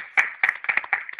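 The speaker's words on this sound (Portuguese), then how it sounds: "Uma salva de palmas pro IDH brasileiro." A few scattered hand claps at a small bonfire gathering, sparse and irregular, moderately close, with quiet gaps between the claps.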